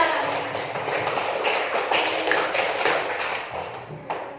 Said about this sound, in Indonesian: Iya, tepuk tangan buat Lastika ya.